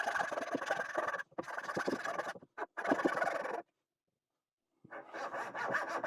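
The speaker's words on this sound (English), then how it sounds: "It just seems like a really excessive amount of sawing." A Katz-Moses KM-19 coping saw cutting dovetails in hard birch, close and rhythmic rasping strokes in bursts, broken by a short pause and a longer silence before the sawing resumes.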